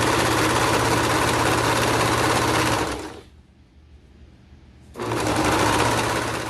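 A sewing machine stitches a pocket on slim joggers, running as a loud, steady close-up buzz for about three seconds, going quiet for a moment, then starting again at the same steady pace.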